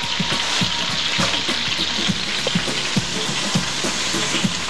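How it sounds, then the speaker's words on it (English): Steady rushing cold water from a tap, with soft clinks and thumps of handling layered over the flow as bread is soaked for a meat recipe. "And you put it under cold water."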